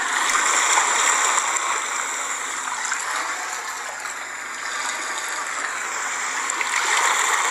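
Beach ambience played from an iPhone sound app: a steady, loud wash of surf and rushing water, continuous and even, with no voices.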